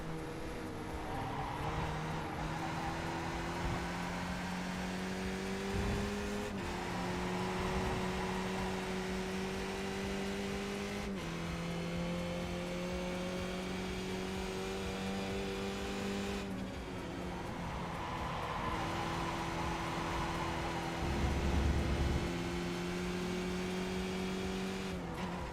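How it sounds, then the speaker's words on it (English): Race car engines in the RaceRoom racing game drone steadily throughout, with sustained tonal whines that step up and down in pitch as cars accelerate and shift, a continuous loud mechanical roar. "I'm having to use the engine noise of the other cars."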